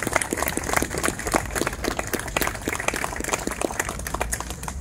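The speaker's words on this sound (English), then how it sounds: "could I please ask you all to give them a big round of applause, please" An audience gives a big round of applause at a ceremony. The clapping is dense and sustained, with sharp individual claps spread across the room, and it fills the whole moment with no talking.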